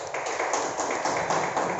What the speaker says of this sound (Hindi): हाँ, तालियां।